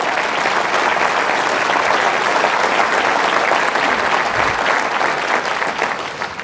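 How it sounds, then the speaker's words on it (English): A large audience at a Chicagoland Chamber annual meeting claps for Special Olympics guests, a loud, sustained wash of applause that holds steady for several seconds before easing off at the end, with no talking. "Let's give them a round of applause."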